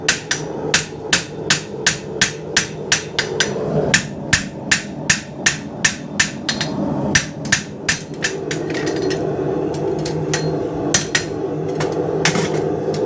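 Rapid, evenly spaced hammer strikes as a farrier hammers a metal horseshoe, close and loud, slowing and thinning out toward the end with a few scattered final taps.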